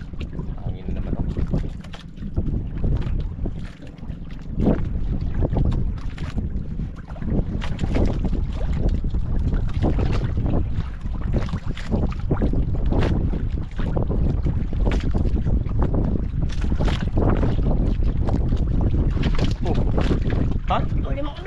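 Steady, roaring wind buffets the microphone throughout, with low rumbling gusts and water noise around a small boat.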